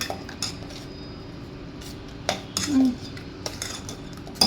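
A metal lid set onto a cooking pot on a home stove, with a few short clinks and knocks of cookware at close range over a quiet kitchen background.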